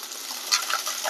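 Oil sizzles steadily in a pan with brief stirring scrapes as chopped onions sauté, a close, continuous frying hiss without voices.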